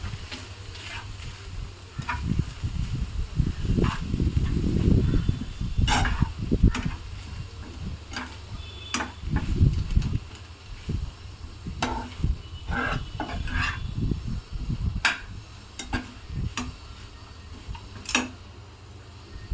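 Fish sandwich filling stirred in a pan over a low flame, a spatula scraping and tapping against the pan in repeated strokes over a soft, steady background sizzle, close up with no talking.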